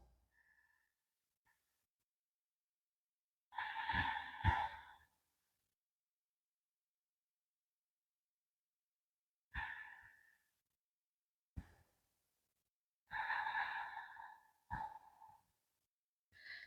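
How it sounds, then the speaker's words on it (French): Slow deep breaths during a hatha yoga session, several long audible exhales and sighs separated by stretches of near silence, close and fairly soft. "Encore 2 respirations profondes,"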